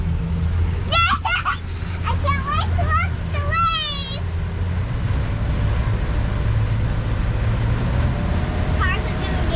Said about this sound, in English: Now let's throttle up.